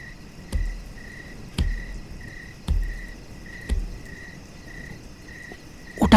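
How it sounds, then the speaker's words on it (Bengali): Crickets chirp nonstop on a quiet night, a steady pulsing trill close by. Soft low thuds beat at a regular pace about once a second beneath it. "একটানা ঝিঝি ডেকেই চলেছে।"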